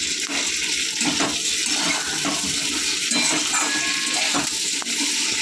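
Water pours steadily and splashes into a pan of curry made with taro leaves (kochu shak) after the spices have been fried. The pour is close and continuous, with a bubbling, hissing wash throughout and no talking.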